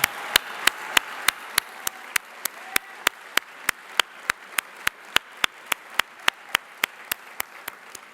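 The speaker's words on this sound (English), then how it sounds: "I'd just like you to give her a round of applause." Applause at a criminal justice foundation awards gala in Philadelphia, heard as sharp, evenly spaced claps beating in a steady rhythm throughout.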